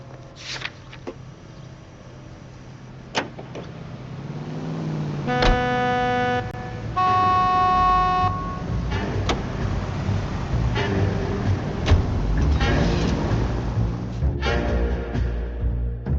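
A car being driven through city streets in the video game L.A. Noire, a low engine hum with traffic noise, a couple of horn toots midway and scattered knocks, moderately close with no talk.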